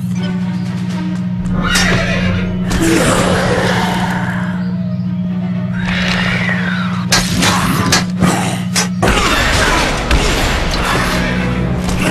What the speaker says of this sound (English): As long as they're on those horses, these knights are fast and dangerous.